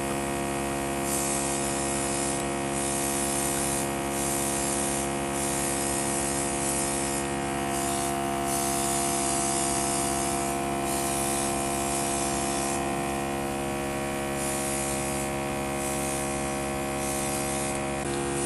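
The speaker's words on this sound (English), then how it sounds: "the further you are away from your face, the bigger area the airbrush will cover" Makeup airbrush spraying onto the face gives a continuous, even hiss with a steady electrical hum from the compressor, loud and unbroken for the whole stretch with no talking.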